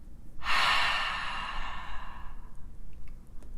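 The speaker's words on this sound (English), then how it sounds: "Inhale through the nose, exhale through the mouth." A long, breathy exhale through the mouth, close and fairly loud, trailing off over about two seconds before faint quiet breathing follows.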